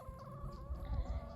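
Roosters and hens on a homestead farm clucking and calling in a busy, continuous stretch of farmyard fowl sound, with low rustling underneath and no talk.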